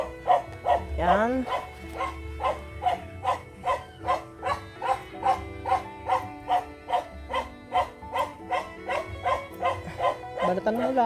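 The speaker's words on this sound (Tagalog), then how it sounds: "Pasensya na sa aming mga aso, napakaiingay" Dogs barking nonstop at a home farm, a rapid rhythmic run of loud, close barks with a few yelps, a howl near the start, and a voice speaking faintly underneath.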